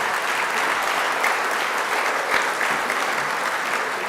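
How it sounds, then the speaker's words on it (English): Steady applause from a gala audience at a Hall of Fame induction, a dense, even wash of clapping that holds throughout at close, full volume. "can we give a round of applause for this man right here?"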